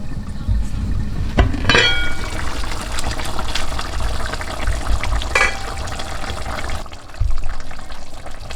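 Steady bubbling and simmering of Jamaican curry goat in a pot, close and continuous, with a few brief clinks partway through.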